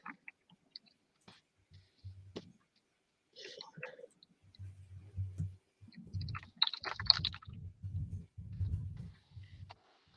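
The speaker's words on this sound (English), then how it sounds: "What I'm typing might be process language" Keyboard typing comes through as scattered light clicks and taps, with soft, low thuds and a faint breathy murmur building toward the end.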